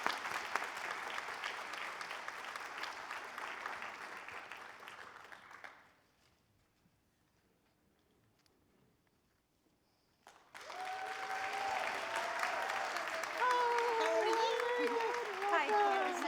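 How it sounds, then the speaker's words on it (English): A crowd at a Latino and immigrant Senate candidate forum gives the arriving representative a big round of clapping that fades to near silence, after which greetings are spoken close up. "let's welcome her with a big round of applause"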